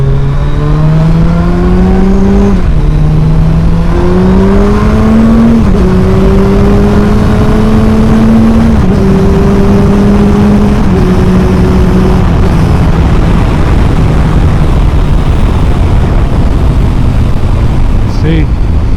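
A motorcycle engine pulls hard while being ridden, its pitch climbing and then dropping at each gear change in a repeated rising pattern, loud and close, with steady wind and road noise throughout.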